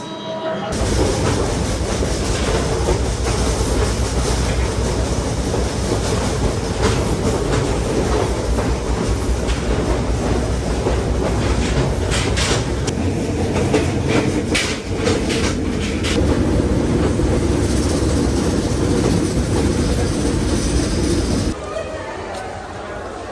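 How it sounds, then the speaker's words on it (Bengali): A train from Dhaka to Benapole rumbles steadily along the rails for a long stretch, with rhythmic clacking and occasional squeals. Voices talk faintly underneath before the noise drops off. "ট্রেন ছেড়ে দিচ্ছে"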